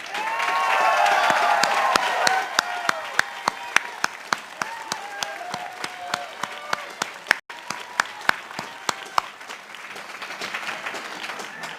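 Sustained applause from a large commencement crowd honoring Evergreen State College staff, dense clapping at first that thins into scattered, sharper claps near the end.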